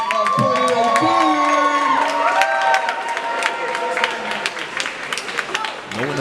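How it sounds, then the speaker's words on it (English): A crowd at a men's college basketball game claps and cheers loudly for the seniors, with whoops rising over sustained applause that thins out toward the end while an announcer's voice carries through. "Let's get one more big round of applause for the seniors of"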